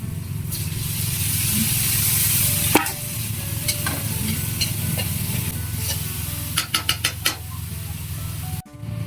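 Squid sizzling in a hot frying pan for adobong pusit, a loud, steady hiss close up with occasional stirring scrapes and clinks of a utensil against the pan, ending in a brief cut-off.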